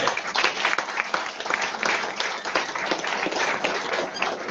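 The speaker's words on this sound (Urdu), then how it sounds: "سب سے پہلے آپ کی تالیاں بتائیں گی جن ٹریول گائیڈز ٹریول ٹورز نے ہمارے ساتھ ابھی یہ آپریٹ کیا ہے" An audience at a corporate event in Murree claps for travel guides and tour operators, the applause dense and uneven with individual hand claps standing out, swelling and easing a little over several seconds.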